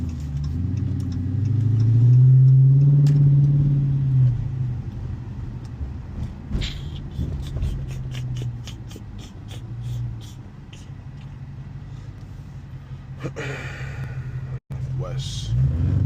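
A Hemi-powered car drives at night, its deep engine rumble swelling and easing in a steady close drone heard from inside the cabin, with a brief high ticking partway through.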